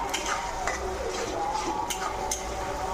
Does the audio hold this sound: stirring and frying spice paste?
yes